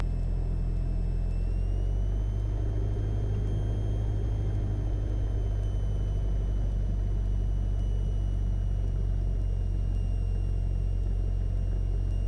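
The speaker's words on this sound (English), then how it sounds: "Skyhawk 18 Delta taking off runway 34" Engine of a Cessna Skyhawk light airplane at takeoff on a runway, a steady loud low rumble and drone running throughout with a faint high whine above it, no talk.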